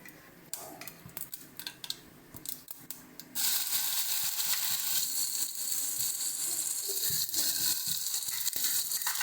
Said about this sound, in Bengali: এবারে আমরা দিয়ে দিচ্ছি প্রথমে জিরে ফোড়ন